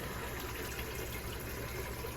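Steady rushing of water filling a Dometic 310 porcelain camper toilet bowl as pressure builds, a continuous close hiss and gush without pauses or voices.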